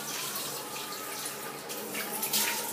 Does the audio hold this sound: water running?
yes